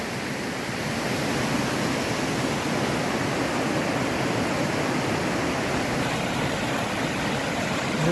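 Water crashes without pause at Cascata da Solitária, a waterfall by a stone cliff in Igrejinha, Rio Grande do Sul, Brazil, giving a constant near hiss-and-roar that stays level from start to end, with no talking.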